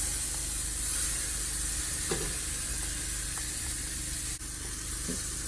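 Sweet potato sizzles in an oiled iron skillet, a steady bright frying hiss with faint stirring scrapes and a few soft clicks, alone and close.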